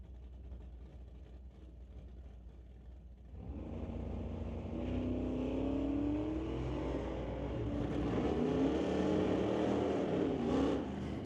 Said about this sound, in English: Rob Getz brings up his F-150 to race against Terry Hookstons in the 1966 Chevrolet.